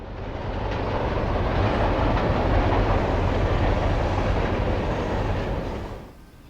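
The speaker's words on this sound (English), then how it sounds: "A Toledo to Bellevue train passes over the Chicago line." A Norfolk Southern train from Toledo to Bellevue passing over the Chicago line, a loud, close, continuous roar and rumble of rolling cars that builds in quickly, holds steady, then cuts away near the end.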